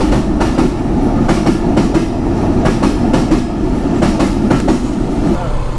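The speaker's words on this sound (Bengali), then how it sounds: "রাজশাহী বিশ্ববিদ্যালয়ের ভিতরে এসে ট্রেন দেখতে পাবো" A local train rolls past at Rajshahi University station, loud and close, with a heavy rumble and a regular clickety-clack of wheels over rail joints throughout.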